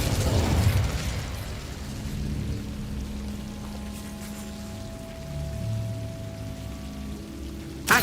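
Incendio fire spell cast in Hogwarts Legacy: a loud whooshing burst of flame at the start trails off into a crackling, rain-like hiss and a low hum, ending with a sharp pop.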